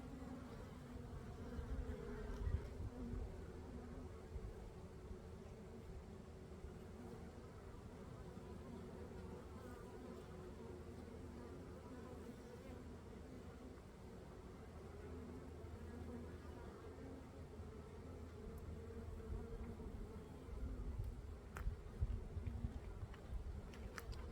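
Honeybees buzzing steadily at an open beehive, with drones and workers present, a dense continuous drone close to the microphone that holds level throughout with no talk.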